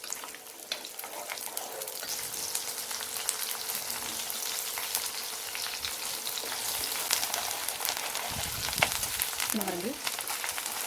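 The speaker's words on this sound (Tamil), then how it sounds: "இந்த பூண்டும் வெங்காயமும் நல்லா வதங்கணும்" Garlic and onions sauté in sesame oil for a prawn kuzhambu. A steady, close, hissing sizzle holds evenly throughout, with occasional faint stirring and a brief voice near the end.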